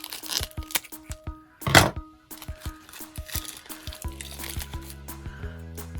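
Blue-handled scissors snip through plastic art-supply packaging, giving several sharp close cuts and crinkles with a few louder crackling bursts, followed by a lower rattling rustle toward the end.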